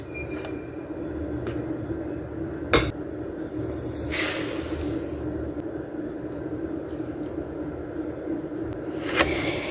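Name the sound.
eggs, sugar and vanilla being whisked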